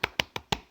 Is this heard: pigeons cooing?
no